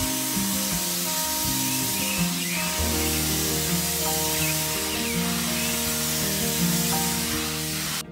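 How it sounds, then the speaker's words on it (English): Spray paint hissing onto porch railing sections outdoors, a steady continuous spray under a bed of mixed background noise that carries on throughout. "I know spray painting them like this is saving us a lot of time"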